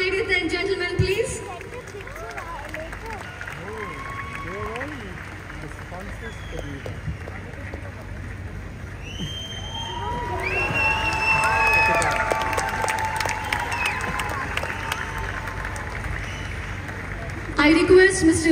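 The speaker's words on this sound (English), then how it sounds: "Can we have a huge round of applause, ladies and gentlemen, please?" Concert audience at a live show in Bengaluru responds with sustained applause and cheering, a broad crowd roar building mid-way and staying loud, with whistles and shouts rising over the clapping.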